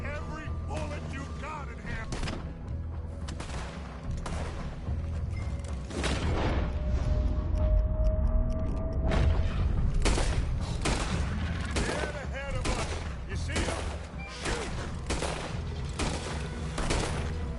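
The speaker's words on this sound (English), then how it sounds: "Put every bullet you got in him!" Dense gunfire fills a Red Dead Redemption 2 firefight. Repeated sharp shots and booming blasts come in quick irregular bursts over a constant rumble, with voices shouting partway through.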